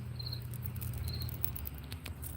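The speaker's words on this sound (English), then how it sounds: "Hear the cricket?" A cricket chirps twice, in two brief high bursts about a second apart, faint against a steady low background hum.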